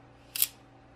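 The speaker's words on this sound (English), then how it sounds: "And as you can see, it actuated the shutter." A camera shutter fired remotely through a PixHawk flight controller from mission planner software, a single crisp mechanical click in an otherwise quiet room.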